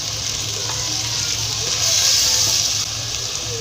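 Ground spices of turmeric, coriander and salt with a splash of water roast in a hot pan on a Punjabi stovetop, giving a steady, close hiss of sizzling that swells briefly toward the middle before settling.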